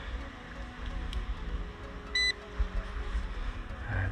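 A metal detecting pinpointer gives a short, clear electronic beep over faint outdoor background noise on a beach hunt.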